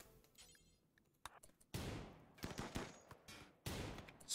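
Gunfire in the colony-building video game RimWorld: sharp, scattered shots and bursts crack at irregular intervals during a raid, some louder and closer, with a low ambient bed between them.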